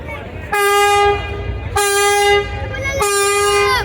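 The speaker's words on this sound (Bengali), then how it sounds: "সুন্দরবন ষোলো রঞ্চের হর্নটা কিন্তু বেশ চমৎকার এবং একেবারে কানে লাগার মতো একটা হর্ন" Three loud, long blasts of a deep horn from the passenger launch Sundarban 16 with rich overtones, each held about a second, sounding close over a low rumbling engine as it reverses slowly away.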